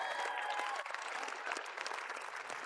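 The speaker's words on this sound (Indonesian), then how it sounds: "Tepuk tangan untuk Diki Chandra dan teman-teman." An audience at a live comedy show claps in a dense, continuous round of applause, heard fairly faintly and without speech.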